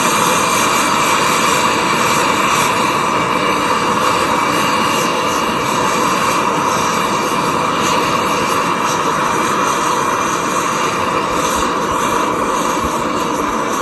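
Trangia multifuel X2 stove burner running on gasoline at full power gives off a loud, steady roaring hiss with no change in level.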